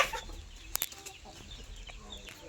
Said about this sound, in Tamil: பாருங்க எத்தனை கோழிகள்